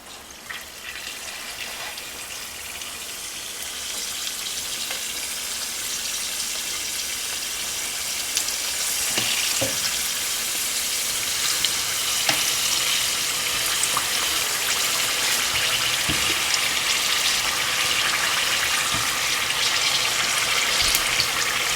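Samosas deep-fry in a pan of hot oil with a dense, even, continuous bubbling hiss that fills the whole stretch, steady and close, with occasional small pops rising above it.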